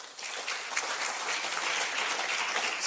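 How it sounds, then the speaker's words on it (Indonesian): An audience at a university send-off ceremony for community-service students applauds the deputy minister for higher education, a steady wash of many hands clapping, moderately loud and continuous throughout. "Tepuk tangan dulu buat Pak Wamen Dikti nih."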